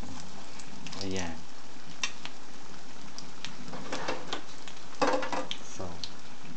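Seafood lumpia frying in hot oil, a soft steady sizzle with occasional crackles and a few faint stirring clinks, fairly quiet throughout with a brief voice in the background.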